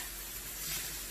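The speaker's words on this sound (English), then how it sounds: "So now we're sauteing the mushrooms." Mushrooms, peppers and onions sautéing in a pan, a steady close hiss of sizzling with no other sounds.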